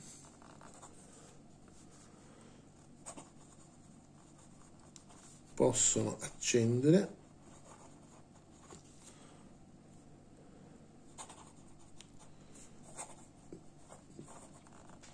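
A TWSBI 580 fountain pen writing on paper: soft, faint nib scratching in intermittent strokes over a quiet background, interrupted by a brief stretch of speech.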